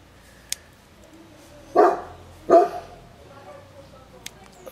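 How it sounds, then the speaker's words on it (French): Excited dogs bark outdoors as a crowd leaves a church after a funeral: two loud, close barks about a second apart, with faint yips and quiet ambient noise around them. "Les chiens sont excités parce qu'il y en a du monde."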